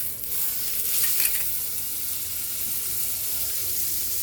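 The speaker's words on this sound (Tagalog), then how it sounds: "Igisa natin yung chicken sa butter." Chicken sautéing in butter in a pan, a steady close sizzle and crackle throughout, briefly louder and busier near the start, with no one speaking.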